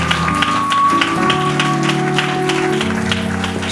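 Church congregation applauding at a Sunday service, a steady patter of many hands clapping close by with sustained organ or keyboard chords underneath and no talk.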